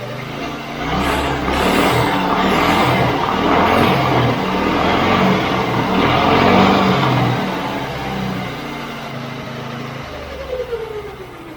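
An old abandoned go-kart engine, freshly fitted with a new carburetor diaphragm, runs loud and steady at close range, a continuous throbbing idle with slight rises in revs throughout, no voices over it.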